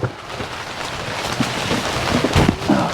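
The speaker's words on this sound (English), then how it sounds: "this is more rain than we've actually been seeing in Seattle" Heavy rain pours steadily during a camping trip near Leavenworth and Wenatchee, a dense close wash of drops with a few louder splatters, no talk.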